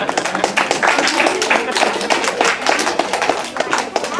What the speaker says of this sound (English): But there's applause.